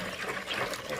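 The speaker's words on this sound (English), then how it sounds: "So the next thing, we pour the caustic soda." Caustic soda solution being poured while making homemade toilet wash, a continuous splashing, gurgling liquid stream heard close up and alone for about a second.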